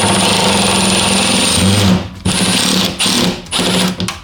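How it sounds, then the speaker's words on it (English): A power drill drives into an RV skylight frame in short, loud bursts, whining at high speed and then stopping and starting again several times, with no talk. "I'm just holding in the middle, and I'm going to drill in"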